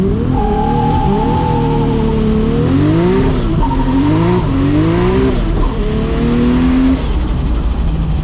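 BMW E92 M3 with an R154 gearbox revs hard and accelerates from a traffic light, engine pitch climbing through repeated rising sweeps with shifts between them, loud and close throughout with faint tire noise.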